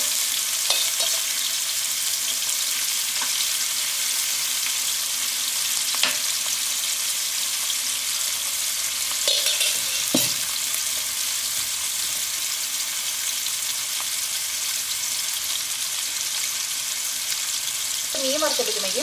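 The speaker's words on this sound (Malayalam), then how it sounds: "മീൻ നന്നായിട്ട് മുരിയണം" Fish pieces fry in hot oil in a pan for fish pickle, giving a steady, dense sizzle that runs throughout. Occasional light clinks of stirring break through the hiss.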